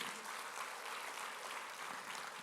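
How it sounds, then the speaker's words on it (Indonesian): A church congregation claps in steady, moderately loud applause that carries on evenly throughout. No voices are heard over it. "Kasih tepuk tangan buat Tuhan dulu dong."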